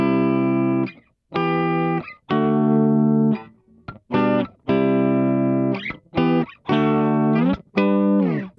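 Clean electric guitar notes and short chords played dry, in separate bursts with brief gaps, loud and close with no reverb tail.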